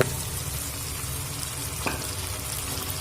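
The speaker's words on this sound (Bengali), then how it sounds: "আবারও মশলার পনিরের সঙ্গে দু থেকে তিন মিনিট মিডিয়াম ফ্লেম করে কষিয়ে নেব" Paneer and boiled dal cook in spices in a pan over a medium flame, giving a steady, continuous sizzle and frying hiss with one brief stirring scrape partway through and no talking.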